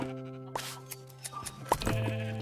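Sheep bleat a few times in the Minecraft video game, short wavering cries over a steady hum of game background tones, with no one talking.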